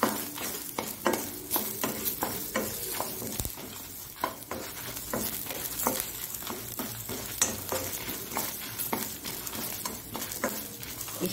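Onions and spices frying in a pan for a Mangalorean raw mango and dried mackerel saaru, a steady close sizzle broken by repeated scraping stirs, with no voices.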